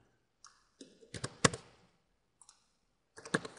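Code being typed on a computer keyboard for a Visual C# programming lesson, several quick bursts of crisp clicking keystrokes separated by short pauses, close and clear.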